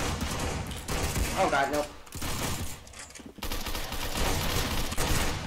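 Rapid continuous gunfire from a gun in the Roblox game Arsenal, loud bursts running nearly throughout with brief gaps, while a player speaks briefly over it.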